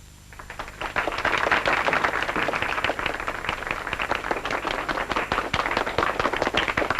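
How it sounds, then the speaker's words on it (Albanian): A crowd applauding at a formal gathering in a war film, a dense, sustained burst of many hands clapping that swells quickly and holds steady for several seconds. "unë konsideroj duartrokitjet tuaja si shenjë admirimi për ushtrinë gjorgjoze italiane dhe"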